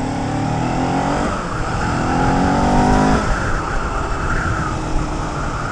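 Kawasaki Ninja 400 motorcycle engine revving loudly and close, the pitch climbing and dropping through a couple of rising pulls under a steady roaring drone.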